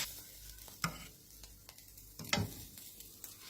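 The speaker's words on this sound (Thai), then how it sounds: "เราก็คั่วให้สุก เนาะ เพราะว่าเขาจะผสมเนื้อปลา" Fish and fish roe dry-roasting in a pan, a faint low sizzle broken by occasional scraping stirs and clacks of a utensil, quiet and close.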